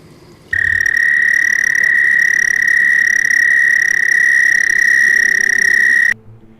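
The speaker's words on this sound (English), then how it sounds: "Now that we've heard what an actual American toad sounds like" A long, steady high-pitched trill of an American toad, loud and continuous for about six seconds, starting and stopping abruptly.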